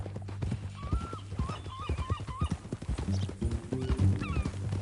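Horse hooves clip-clopping in a steady gait in Red Dead Redemption 2, with a short whinny and snorts mixed among the footfalls, close and moderately loud.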